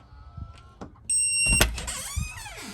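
A short electric motor whir follows a few soft taps and beeps, as a Eufy 3-in-1 smart lock drives its bolt closed, close and fairly loud.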